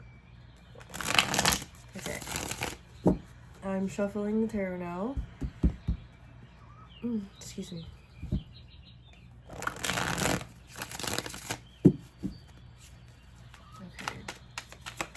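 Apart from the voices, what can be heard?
tarot cards being shuffled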